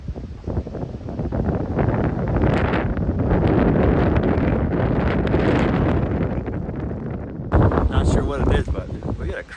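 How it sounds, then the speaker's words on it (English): Strong wind roars and buffets the microphone in heavy, continuous gusts, loud and close throughout. "crazy windstorm going on right now."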